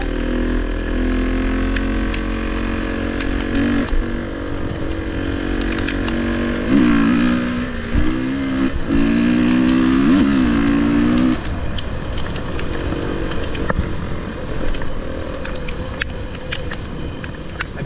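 A four-stroke enduro motorcycle with its stock exhaust idles and revs nearby, a steady loud engine drone that swells in several blips of rising and falling pitch before settling back to a rough idle.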